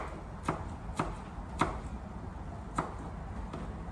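A knife chops garlic into tiny pieces on a board, five crisp, evenly spaced taps against a quiet background hum, close up with no talking.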